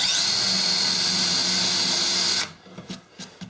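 A power drill boring into redwood with a Forstner bit, a loud continuous high whine held steady for over two seconds, then stopping abruptly into a few faint knocks and handling sounds, close by with no talk.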